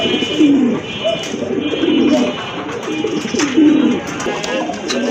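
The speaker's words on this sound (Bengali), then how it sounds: "আরেক জোড়া কবুতর, এটা হচ্ছে আপনার ফ্যান্ডেল কবুতর, রানিং কবুতর" Fancy pigeons kept for sale coo in low, rolling, repeated calls, close and fairly loud, over a busy background hum and scattered clicks.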